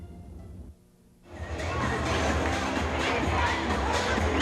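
A big crowd at a girls volleyball state Division I sectional final between North Quincy and Quincy at Eastern Nazarene College, with loud music. After a brief near-quiet gap, a dense, loud roar of crowd noise and music rises and holds steady.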